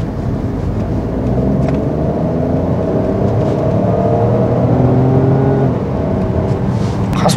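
A Peugeot 408 Allure crossover accelerates, its engine drone rising steadily in pitch for several seconds under cabin road noise before easing off near the end.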